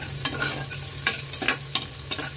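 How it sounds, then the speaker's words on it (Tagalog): Garlic sautéing in a pan for a pork dish, with steady close sizzling and repeated sharp scraping stirs of a utensil against the pan, with no talking. "I-sautay lang natin"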